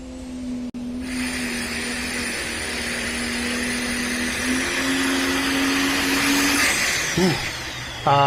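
A high-revving tractor-pulling engine at an outdoor pull holds a loud, steady drone through the whole run, with its pitch edging upward before it ends in a few quick blips.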